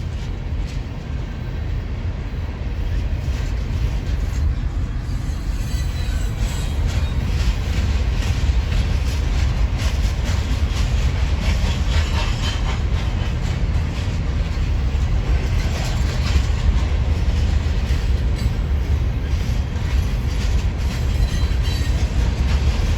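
A train rolls past at close range, a loud continuous rumble with clickety-clack wheel rhythm and faint squealing that holds steady for over twenty seconds, with no talking.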